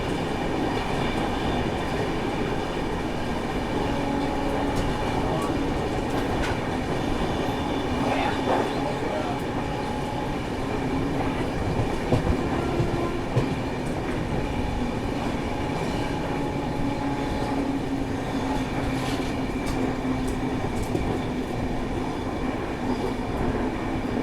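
The 12774 Shalimar SF Express passenger train rolls along after leaving Secunderabad on its run toward Visakhapatnam, a steady, loud rumble of wheels and carriages that continues without pause, with no voices on top.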